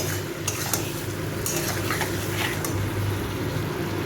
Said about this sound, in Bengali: এই মশলাটা আমি এর মধ্যে দিয়ে দেবো ভালো করে মশলাটা কষিয়ে নেব